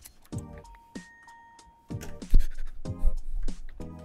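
A bell in the Minecraft video game is struck over and over in a quick, uneven run of bright metallic rings, each sharp strike ringing briefly, loud and close with no talk.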